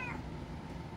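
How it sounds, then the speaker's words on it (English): Feona the cat lets out a single short, close meow at the very start, followed by quiet room noise. "What's up with that meow?"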